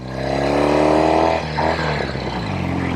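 A 1973 Norton 850 Commando Roadster motorcycle engine pulls hard and loud at close range, its revving pitch dropping sharply at two gear changes before it climbs again.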